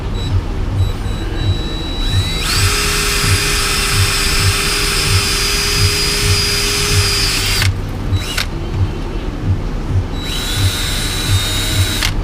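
A power drill runs steadily in a workshop, boring during work on a turbo truck's oil feed and drain, with brief pauses and restarts and a constant low hum underneath.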